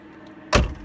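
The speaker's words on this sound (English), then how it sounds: "We'll do another door close here so you can see." A 1972 Chevrolet Vega GT door slams shut once with a solid, close thud, then a short fading rattle.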